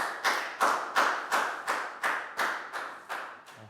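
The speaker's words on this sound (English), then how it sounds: "Big round of applause for Dan," A classroom group of students claps for a classmate in a slow, unison rhythm, about ten distinct, evenly spaced claps, close and clear with no talking.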